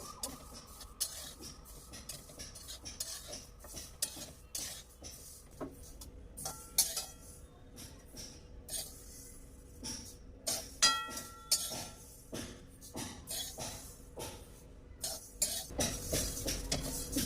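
Sesame seeds are stirred and roasted in a hot kadhai over medium heat, with a spoon scraping and clinking against the metal pan in irregular strokes, fairly quiet and close, with little talk.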